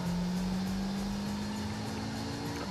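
A Toyota Trueno in Gran Turismo 5 holds a steady engine drone, a sustained hum at nearly constant pitch with a slight drift, moderately loud and without talking.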